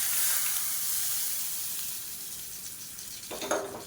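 A tempering of mustard seeds, urad dal, cumin, dried red chillies, curry leaves and asafoetida sizzles in hot oil, a steady close hiss. It fades slightly before a brief louder crackle burst near the end as it is tipped into a buttermilk curry.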